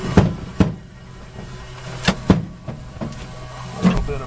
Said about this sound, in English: Fuel pump on.